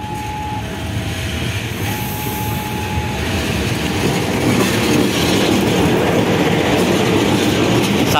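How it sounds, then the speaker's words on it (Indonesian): A locomotive shunts railway carriages at Lempuyan station, a loud continuous rolling rumble with clattering wheels and a brief tonal squeal early on, growing steadily heavier as the cars pass close by. "Ini adalah pelangsiran lokomotif kereta api Bung Talon Service."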